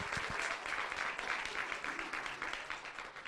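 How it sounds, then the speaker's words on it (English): An audience applauds steadily for just over three seconds in a dense, sustained wash of clapping that tapers slightly at the end. "All right, everybody give David and Amberly a round of applause."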